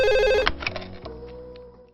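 A telephone rings loudly in a home scene from a Telugu drama film: one bright, sharp electronic ring that cuts off after about half a second, then fades into a short decaying tail.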